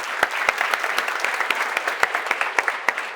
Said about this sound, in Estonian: suur aplaus siis